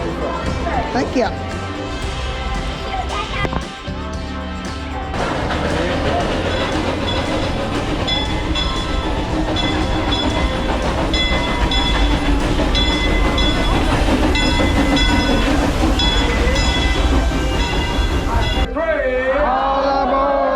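Theme park train at Silver Dollar City, a dense rumble of rail cars and music-like tonal layers running throughout, with people talking nearby over the steady noise.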